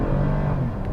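A 2021 Toyota Camry XSE V6 pulls hard from a stop, its engine droning loud and close with a steady, rising rev.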